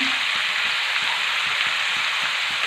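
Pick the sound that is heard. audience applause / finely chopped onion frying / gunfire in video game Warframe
finely chopped onion frying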